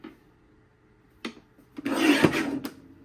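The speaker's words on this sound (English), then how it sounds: "place it in the trimmer so that this narrow strip is on your right, and we'll cut at 11" A paper trimmer slices a narrow strip of paper, a short faint tap followed by a louder scraping cut of about a second, heard close and alone.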